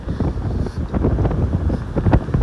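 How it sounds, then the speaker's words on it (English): Wind on a beach buffeting a handheld microphone, producing loud, gusty rumbling bursts that rise and fall continuously, with no speech. "Did you guys hear the wind at all when I was blocking it with my body?"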